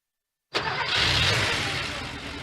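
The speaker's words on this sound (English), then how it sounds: "That's the sound of an engine running on the strength of Castrol Edge." A car engine cranks and starts abruptly after silence, then runs loud and steady with a broad roar and a slight fade, as in a Castrol Edge motor oil advert.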